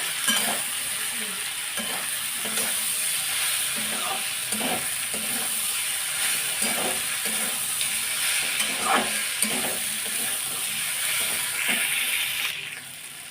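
Ground mustard, cumin and ginger paste sizzles steadily in a pan, with repeated spoon scrapes and stirring knocks against the metal every second or so over a constant close frying hiss.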